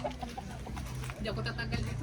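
Chickens cluck close by with repeated short calls, over a noisy outdoor background with a low hum.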